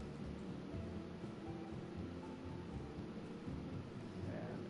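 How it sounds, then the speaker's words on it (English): Rain falls across a residential neighborhood as an even, continuous hiss with a low rumble underneath, steady and fairly soft. "And it's raining, of course."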